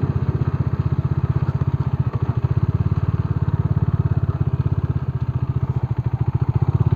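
A Bajaj Dominar motorcycle engine running steadily with a fast, even pulsing thrum while the rider works the clutch, close and loud with no talking over it.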